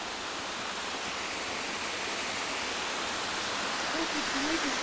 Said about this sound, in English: The old waterfall out of the glacier.